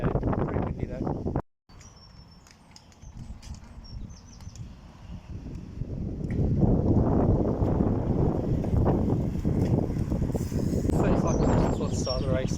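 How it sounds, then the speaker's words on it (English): Wind gusts at an outdoor cycling race track, buffeting the microphone with broad rushing noise that builds louder in the second half, while a person talks over it early on. "Pretty windy though."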